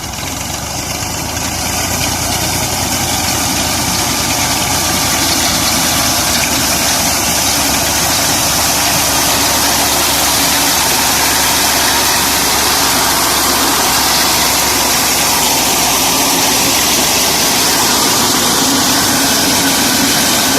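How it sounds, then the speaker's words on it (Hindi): A steady, loud Massey Ferguson 240 tractor engine (1986 model) drones without pause during wheat harvesting, a low rumbling idle with broad mechanical noise and no voices. "ये अभी ट्रैक्टर बैक चला गया।"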